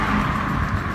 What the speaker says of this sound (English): Domino's pizza car right there.